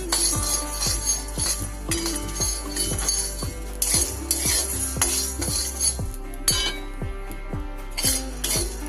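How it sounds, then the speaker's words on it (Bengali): Metal spoon scraping and clinking in a dry pan as spices and a little salt dry-roast, with a steady run of repeated light taps and scrapes up close, no talk. "এটাকে আমি বেশ কিছুক্ষণ ধরে নেড়ে এটা শুকনো খোলায় আমি"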